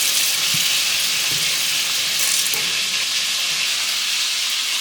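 Beef tallow sizzling in a pot for Hungarian goulash, a steady bright hiss and crackle that holds evenly for about five seconds, close and alone with no voices.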